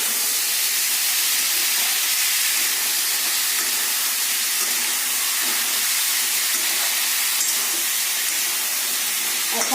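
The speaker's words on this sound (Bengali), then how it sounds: "ফোড়নে কালো জিরে আর কাঁচা লঙ্কা দিয়ে এটাকে ভালো করে আমি এখন নাড়াচাড়া করে নেব" Black cumin seeds and green chilies tempering in hot oil for a bean dish, a steady, close hiss and sizzle that holds nearly unchanged throughout, with faint scraping from stirring.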